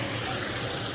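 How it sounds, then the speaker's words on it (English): Water gushing heavily from a theme park water feature at Islands of Adventure, a dense, close, continuous roar of pouring water lasting about a second. "Look how much water is coming out of this thing."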